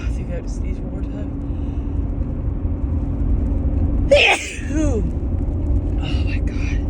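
A person sneezes once in the middle, a short sharp burst against steady low road-like rumble, with the voice rising and falling around it during a run of repeated sneezes.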